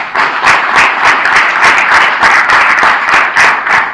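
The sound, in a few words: audience applause at a seminar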